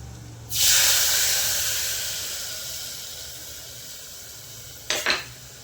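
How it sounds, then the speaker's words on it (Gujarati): Gravy poured into a pan of frying garlic bursts into a loud hiss that slowly fades, followed near the end by two short sizzling surges as it is stirred. "હવે લસણ થઈ જવા આવ્યું એટલે હવે પહેલાં તો ગ્રેવી વેડી દઉં"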